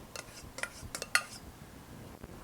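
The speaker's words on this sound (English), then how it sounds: "Now I want to add in my rice right into the bowl so that it absorbs the mix." Rice added into a bowl, heard as a few light clinks and scrapes of a utensil against the dish, close and quiet with short pauses between taps.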